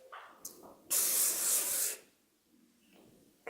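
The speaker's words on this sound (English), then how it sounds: "And then I go around and spray the rest of it," Hairspray sprays onto hair in one sustained close hiss of about a second, framed by soft rustling and handling sounds.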